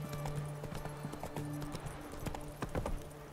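Hooves of a horse in The Witcher 3 video game clatter in a quick, rhythmic galloping clip-clop, close and busy, over ambient game sounds.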